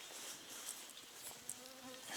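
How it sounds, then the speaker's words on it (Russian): Mosquitoes buzzing in the Russian taiga of the Komi region, a faint thin whine of insects hovering close by against quiet surroundings, no talking. "Комарья здесь достаточно."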